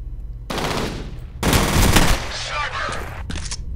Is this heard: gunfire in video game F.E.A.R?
yes